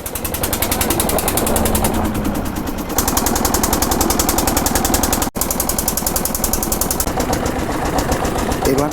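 Small motor boat crossing the Padma river, its engine chugging in a loud, rapid, steady knock that continues throughout, with a brief dropout midway.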